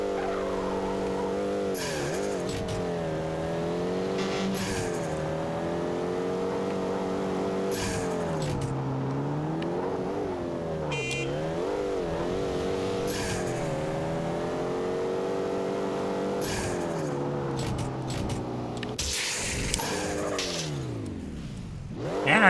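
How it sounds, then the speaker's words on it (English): A tuned car in the Street Racing Syndicate street racing game revs hard and shifts through gears in a continuous loud engine drone, with repeated tire squeals and skids and a sharp crash near the end. "And I just banged up my car again"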